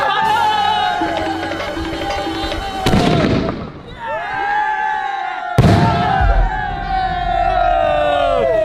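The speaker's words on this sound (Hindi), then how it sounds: "गाइस 3000 रुपए वाला स्काई शॉट।" Diwali sky shot fireworks bursting overhead, two sharp loud booms a few seconds apart, each followed by crackling, with whistling and siren-like tones and crowd noise throughout.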